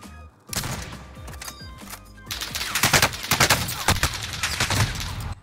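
Automatic weapons fire in Call of Duty Warzone 2, loud, close bursts of rapid shots that start and stop, growing denser and heavier toward the end.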